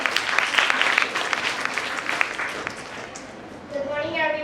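Audience applause for a seventh-grade student called up at a Republic Day event at Dawn High School in Hyderabad, dense clapping from many hands that thins out near the end as a voice begins over it.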